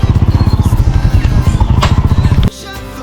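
A motorcycle engine thuds in a fast, steady pulse close by, rolling along a dry dirt road, then cuts off abruptly into quieter background near the end.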